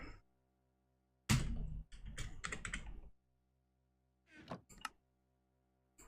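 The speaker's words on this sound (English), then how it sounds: "Stop typing." Rapid typing on a computer keyboard during a Minecraft session, a loud flurry of clattering keystrokes followed by a shorter burst of taps a moment later, close up with silence between.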